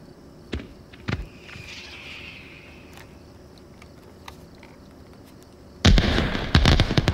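Fireworks in the VR game Summer Lesson, a few sharp separated pops early on, then a quiet stretch before a loud cluster of rapid crackling bursts near the end.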